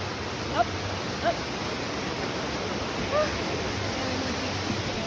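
A waterfall in Portland, Jamaica rushes in a steady broadband roar, constant and enveloping, with a few faint short voices or bird calls barely poking through.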